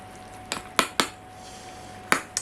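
A spoon scrapes and clinks against a baking dish while cutting a portion of sweet potato and zucchini gratin, with four or five sharp, close knocks spaced irregularly over a quiet room.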